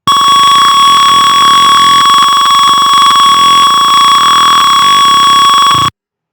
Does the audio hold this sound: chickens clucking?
no